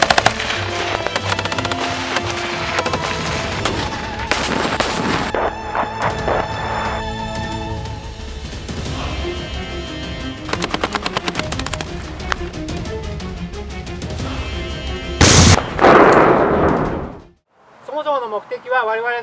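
Military live-fire during the Southern Jackaroo training exercise in Australia, with rapid bursts of automatic gunfire and sharp shots, loud and close, mixed with shouted commands, ending in a heavy blast before a brief quiet.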